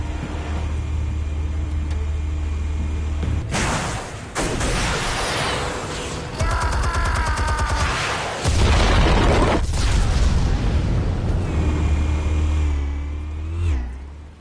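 Booming explosive detonations in a video game, several heavy bursts with loud low rumble over a steady engine-like drone and game effects, no talk.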